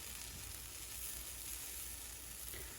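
Pancakes sizzling on a stovetop element after being flipped, a faint, even hiss of frying held steady throughout with no talking.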